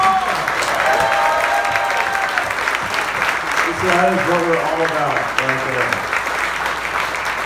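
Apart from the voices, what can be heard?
audience applause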